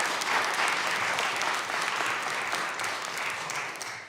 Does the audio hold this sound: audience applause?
yes